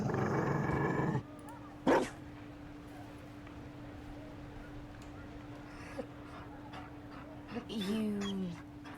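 A Mabari dog in Dragon Age: Inquisition whimpers and gives a short bark, with brief whining cries near the end amid game ambience, and people talk during part of it.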